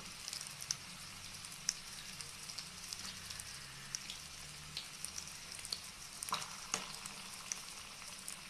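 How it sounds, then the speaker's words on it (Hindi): Stuffed chillies fry over a medium flame, giving a soft, crackling sizzle with scattered pops and spits, quiet and close, with a low hum underneath. "मीडियम फ्लेम पे हम इन्हें फ्राई करेंगे और गोल्डन ब्राउन होने तक हम इन्हें फ्राई करेंगे।"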